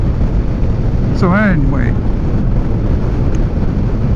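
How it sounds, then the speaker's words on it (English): Heavy wind buffeting and roar while riding a Honda Fury motorcycle in 113° heat, a steady broadband rush filling the whole stretch, with someone talking briefly over it. "I gotta concentrate quite a bit because with this wind it's pretty wicked."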